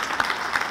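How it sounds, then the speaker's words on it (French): Brief burst of audience applause at a business forum, a dense wash of hands with a couple of sharper claps near the mic, cut short after under a second. "Oui, applaudissements, c'est vrai."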